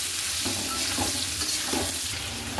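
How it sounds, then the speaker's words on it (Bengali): Potato pieces fry in hot oil with a steady, close sizzle that runs throughout, broken by a few scraping stirs; no one speaks. "এবার দিয়ে দেবো তেলেই আলু।"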